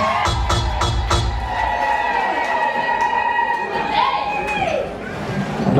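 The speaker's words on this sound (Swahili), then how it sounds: "makofi na vigeregere kwake" Crowd at a Swahili-language gospel album launch clapping and ululating for the bride's father-in-law, high trilling cries rising over applause and a continuing voice, with music tones underneath.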